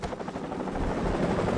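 A helicopter in the shooter game Modern Warfare Remastered gives a steady loud rotor thump and engine roar that pulses throughout, with no one talking over it.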